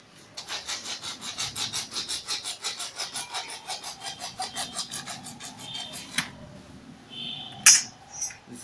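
Material being cut by hand for a simple ethanol rocket: a quick, steady run of rasping back-and-forth strokes, fairly close, then a pause and a couple of small clicks and knocks.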